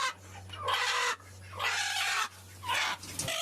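Guinea fowl hen clucking among farm poultry, three harsh rasping bursts of chatter about a second each with short gaps, over a steady low electrical hum.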